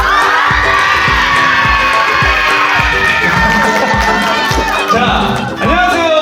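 A hall of middle-school girls at a counseling event cheers and shouts loudly over music with a steady thumping beat, the crowd noise dense and continuous throughout.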